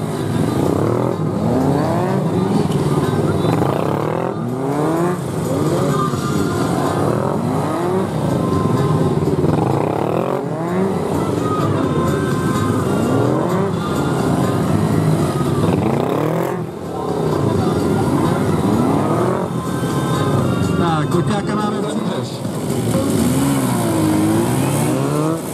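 A Honda PCX scooter runs a moto gymkhana course, its engine revving up and down continuously through tight turns, loud and steady for the whole stretch with no pauses.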